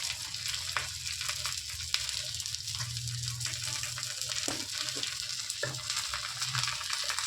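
Mustard seeds sputter and pop in hot oil in a kadai, a steady crackling sizzle with scattered sharp pops, moderately loud and alone throughout.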